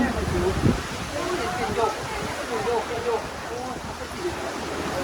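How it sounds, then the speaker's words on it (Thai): Strong, swirling wind sweeps through an outdoor spot during a rainstorm, making a steady, rushing roar with gusty swells as people talk over it. "ลมหมุนมากเลยอ่ะ"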